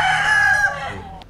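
A Tagalog-breed gamefowl rooster crows once, loud and close, its long strained call tailing off with no voices over it.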